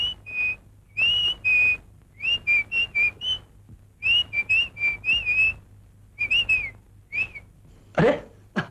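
Tuneful whistling, quick repeated high notes in short phrases with brief pauses, close and clear with no talk over it.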